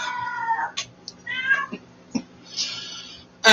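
A cat meows several times, drawn-out and fairly close, with short pauses between calls and a louder cry at the end.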